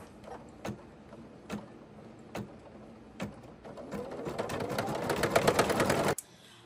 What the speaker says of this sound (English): So I'll go ahead and thread my machine and put the presser foot down and go.